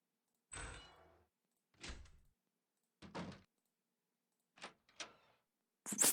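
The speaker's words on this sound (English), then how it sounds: "I need like a good door opening." Door opening sound effects being auditioned one after another: six separate short thuds and creaks spaced across the stretch, each a brief burst with silence between, the last one sharper and brighter.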